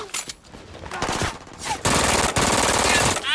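Turret machine gun in the video game Brink opening up in sustained bursts, loud and dense, with a rapid crackle of rounds and a brief pause midway.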